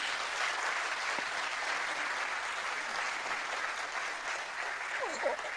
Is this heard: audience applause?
yes